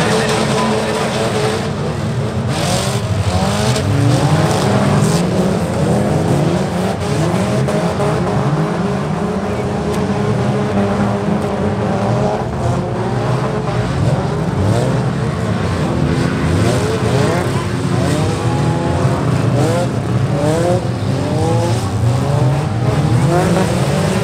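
Super stock cars race on a slippery track, their engines roaring loudly and continuously with rising and falling revs as several cars pass close by.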